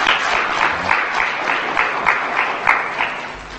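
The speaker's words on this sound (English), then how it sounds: "these people should give you a clap" Audience applause at a national International Youth Day address, a steady crowd clapping with rhythmic swells, moderately loud and continuous with no talk over it.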